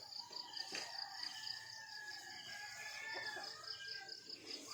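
A rooster crows near a pig and chicken farm, its call held and wavering over steady outdoor background noise, with crickets faintly audible and no talking.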